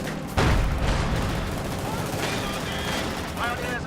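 Submachine gun fire in Company of Heroes 2 as shock troops engage grenadiers at a snow wall, with dense bursts of battle gunfire and a heavy boom early, mixed with game battle sounds under a steady roar.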